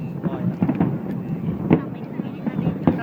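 Fireworks burst over apartment blocks during a night display, several sharp booms scattered across the clip with crackle between them, heard under steady crowd chatter and voices talking.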